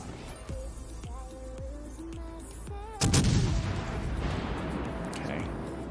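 Naval gunfire in World of Warships: a string of short plinking impacts gives way to a sudden heavy booming salvo, followed by a rumbling, sustained wash of battle noise.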